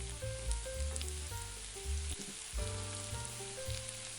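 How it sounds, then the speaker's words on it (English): A coarsely chopped medium Italian red onion sizzles in hot olive oil in a pan, giving a steady, close crackling fry. Small pops and spatters break through the hiss from start to finish. "Once the oil is up to temperature, add 1 medium Italian red onion that has been coarsely chopped."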